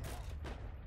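Gunshot in the World War II shooter Heroes & Generals, one fairly quiet, close crack followed by a short fading tail over low, steady background rumble.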